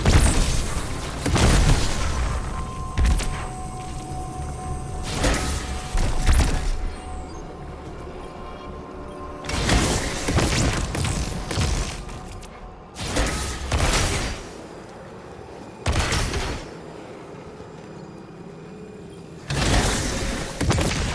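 Heavy cannon booms in the video game Destiny 2 as a supercharged cannon fires, arriving as several loud, broadband blasts spaced a few seconds apart over a constant rumbling mechanical background.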